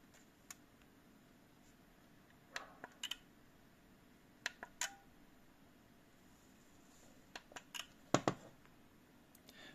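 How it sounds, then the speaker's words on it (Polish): A physical switch on a power strip with three sockets and USB ports clicks on and off, several sharp, distinct clicks spread irregularly, some in quick pairs, against a quiet background. "Jest to fizyczny wyłącznik z takim dobrze słyszalnym klikiem."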